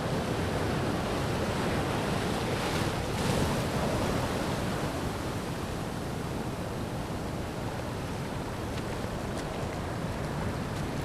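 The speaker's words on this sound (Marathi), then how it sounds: "पाणी वाढायला लागला लाटा येतात" Continuous roar of sea waves breaking on the Konkan shore with a rising tide, loud and close, with wind noise over the whole stretch.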